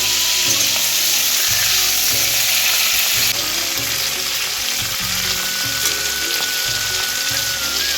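Loud, close frying hiss of fish in oil, a dense continuous crackle with an occasional spatter and a low background hum.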